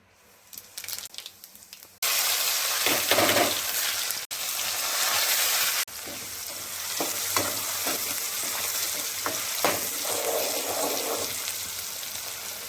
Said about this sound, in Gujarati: હાલો હવે તેલ મૂકી દઈને વઘારી નાખીએ આપણે તેલ મુકાઈ ગયું